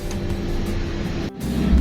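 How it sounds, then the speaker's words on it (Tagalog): Heavy street traffic in Binondo, Manila, a steady close rumble of idling and creeping engines that runs continuously, with a brief dip near the end before resuming at full level. "ngayon, grabe na ang traffic oh"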